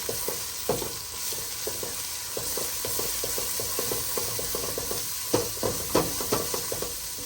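Spices for chicken haleem stir-fried in a pan, a steady sizzling hiss broken by repeated scraping strokes of a spoon against the pan, close up with no talk.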